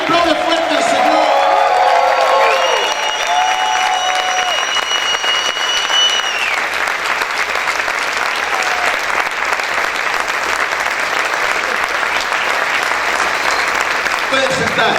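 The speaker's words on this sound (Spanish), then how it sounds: "A ver, grita y aplaude fuerte al Señor." A church congregation claps hard and shouts in praise during a sermon, with loud, sustained applause and cheering voices at the start, then dense steady clapping that continues for the full fifteen seconds.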